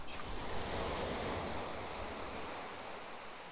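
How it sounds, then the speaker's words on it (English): Ocean waves wash onto an empty beach in a full, close rush of surf. Wind buffets the microphone, and the wash eases slightly as the water recedes. "So, I found a bit of a beautiful beach."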